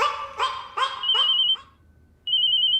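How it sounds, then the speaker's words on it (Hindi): A telephone rings at night in a home, sounding as several short, trilling electronic bursts in quick succession, a pause, then one more ring. "इतनी रात को किसका फोन है"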